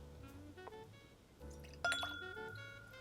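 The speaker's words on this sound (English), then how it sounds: "I'm not going to pour too much." Wild Turkey Kentucky Spirit bourbon pours briefly into a glass, a faint trickle and light clink of glass under a quiet background of low music.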